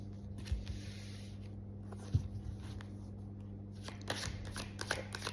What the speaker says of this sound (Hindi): मैं 4 कार्ड्स यहाँ से लेने वाली हूँ